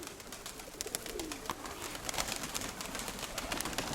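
Pigeons coo softly amid a steady wash of background noise, with scattered clicks and flutters throughout, no voices present, after being let out of their loft.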